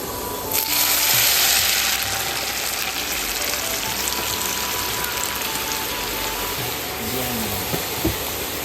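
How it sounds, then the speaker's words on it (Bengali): A pot of dal lentils boils on a home stove, giving a steady, close hiss of bubbling and simmering that runs continuously, with a few small clinks near the end. "চলো ডালটা সেদ্ধ হোক"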